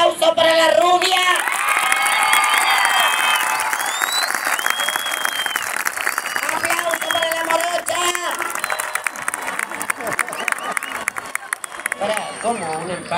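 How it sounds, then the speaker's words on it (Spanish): A comedy show crowd in Mar del Plata breaks into loud applause and cheering, with shouts and voices mixed into the clapping. The noise stays strong throughout and eases only slightly toward the end. "aplauso para la rubia"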